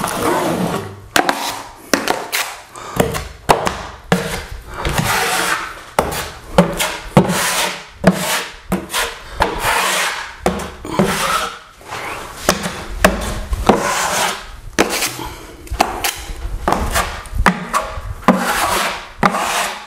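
A trowel scrapes and smooths drywall mud over wall joints, in repeated close, rhythmic rasping strokes with short pauses between passes.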